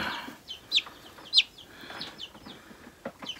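Silkie chickens, small white-light gray birds with feathered feet, give a few short high clucks and chirps at close range, two louder calls standing out over soft background chatter of the flock.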